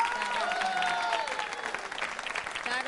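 Audience applause in a Diwali-themed quiz show, steady and sustained for the full stretch, with some faint tonal sounds and possible voices underneath.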